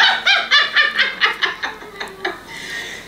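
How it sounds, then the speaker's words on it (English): A big dog barks in a rapid series of about ten loud, close, evenly spaced barks that fade into a softer whine at the end. "That's a big ass dog."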